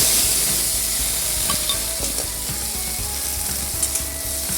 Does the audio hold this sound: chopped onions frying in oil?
yes